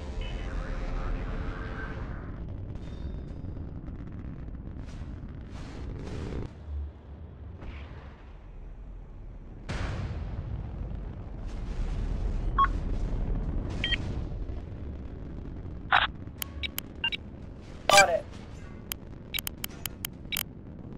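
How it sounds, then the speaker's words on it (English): A missile launch and explosion in a combat video game: a heavy rumbling blast at the start, then further booms and a series of sharp cracking bursts and clicks near the end, with no talk. "Missile away."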